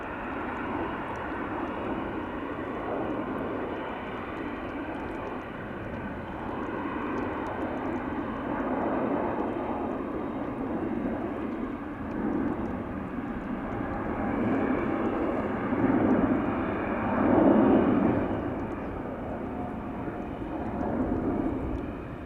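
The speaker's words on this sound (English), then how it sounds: "Just putting up right now over here on Polderbaan is KLM flight 1269" Loud, sustained jet roar from a KLM airliner taking off on the Polderbaan runway at Amsterdam Schiphol, swelling gradually and peaking near the end with rumbling surges, no talking.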